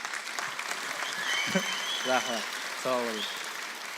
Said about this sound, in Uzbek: Qarsakinglar.